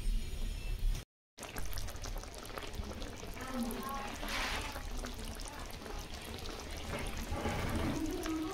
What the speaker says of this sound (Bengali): এবার দুধ দিয়ে দেবো।